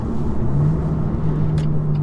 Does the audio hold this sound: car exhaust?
yes